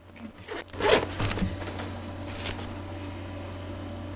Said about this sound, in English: and then you zip it.